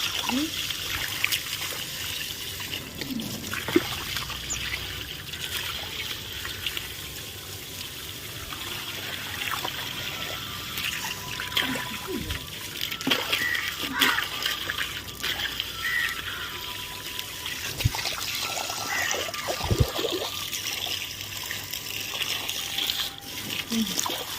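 Water pouring and trickling at a new house, a steady running splash throughout with occasional knocks and clatters, while people talk nearby.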